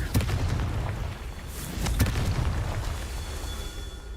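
A Confringo fire spell blasting in the Hogwarts Legacy video game, heard as a few dull booming bursts over a constant rumbling game background.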